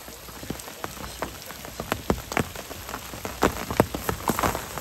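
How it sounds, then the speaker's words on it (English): Heavy rain with large drops pounds a surface during a storm, scattered loud individual impacts standing out against a steady wash, building in density toward the end. "Very big raindrops."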